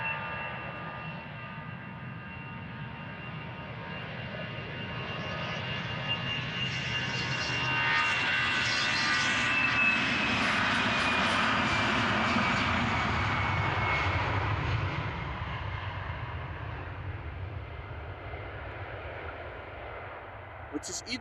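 An Aer Lingus Airbus A320 departs runway 36 left at Amsterdam Schiphol, its jet engines roaring as a broad, steady rush that builds to a peak midway and then slowly recedes into the distance.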